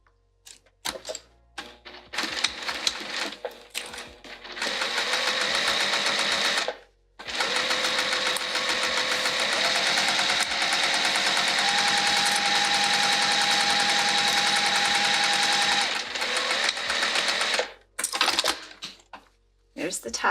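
A sewing machine top-stitches fabric for a bag, running in long continuous bursts of rapid mechanical stitching with brief pauses in between and a short stop near the middle.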